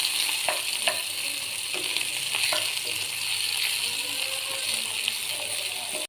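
Chopped onion sizzling in hot oil for a momo filling, a steady bright fry with occasional scraping knocks of a spoon stirring the pan, close and continuous, no voices.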